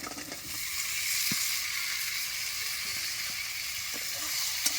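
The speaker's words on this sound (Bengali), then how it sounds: "আলু আর ফুলকপি ভাজাটা এবার দিয়ে দিচ্ছি।" A steady, close sizzle of potatoes and cauliflower frying in hot oil, with a couple of faint utensil clinks and no voices.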